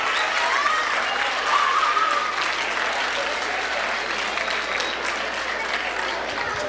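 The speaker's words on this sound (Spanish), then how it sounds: "Un fuerte aplauso, por favor" An audience at a science lecture applauds continuously, a dense and even wash of clapping that holds steady throughout without talk.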